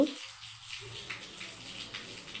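Water poured into a pot of cabbage with lentils and mung dal, a steady soft gushing stream heard alone for a couple of seconds.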